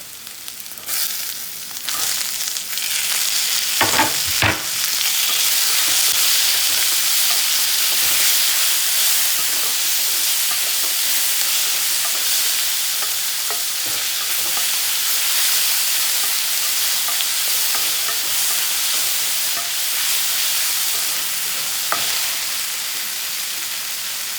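Onions fried with potatoes and tomatoes sizzle steadily in a pan, a loud continuous hiss with a few scraping stirs early on and no talking.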